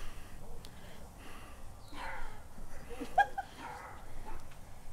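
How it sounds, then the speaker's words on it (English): A dog barks a few times, faint and a little distant, in a home kitchen during a cooking stream, with low background noise between the barks. "What the fuck are you barking at"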